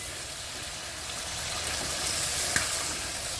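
Chicken curry meat fries in its own released oil with a steady, dense sizzle. Sporadic crackles and a single sharp pop come from close by.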